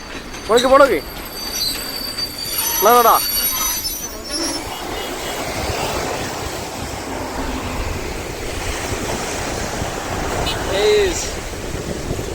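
A goods train passes near Kadalundi bird sanctuary, steel wheels squealing in sharp bursts early on over a continuous loud rolling rumble that carries on steadily to the end.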